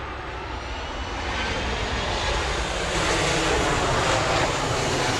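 A Delta Boeing 737-900 jet airliner on Flight 600 from Atlanta arriving at Grand Cayman airport, a steady, loud broadband roar that swells slightly as it comes in, with no talk.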